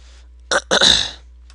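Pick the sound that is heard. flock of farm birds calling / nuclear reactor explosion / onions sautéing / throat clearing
throat clearing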